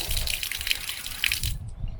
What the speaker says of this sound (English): So mains water is running.